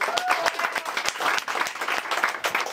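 Audience applause at an amateur boxing event as a fighter is introduced: dense, close clapping from a crowd, lively and continuous for a few seconds.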